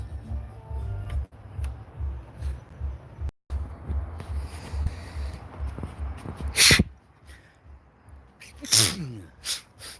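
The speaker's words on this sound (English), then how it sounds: "I sneezed." A single sharp sneeze bursts out loudly partway through, followed a couple of seconds later by another abrupt noisy exhale, over a low steady background hum, with no other talk.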